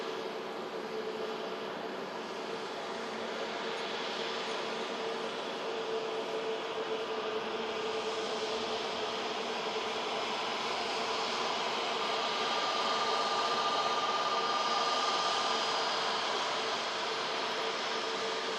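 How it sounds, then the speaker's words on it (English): An EasyJet airliner arriving from Amsterdam at Manchester Airport gives a steady, distant jet roar that swells gently and holds across the whole stretch, with no voices. "Miss EasyJet arriving in from Amsterdam"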